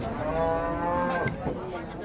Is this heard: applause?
no